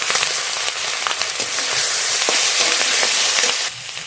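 Fried fish, whole garlic and green chillies tipped into hot oil for tempering, producing a loud, steady, close sizzle that crackles throughout and drops slightly near the end.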